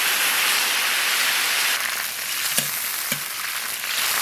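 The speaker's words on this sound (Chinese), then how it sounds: "锅里倒点油，泡好的干辣椒、花椒扣一下水" Soaked dried chilies and Sichuan peppercorns are tipped into hot oil in a wok, giving a loud, steady sizzle and hiss with a couple of small clinks partway through.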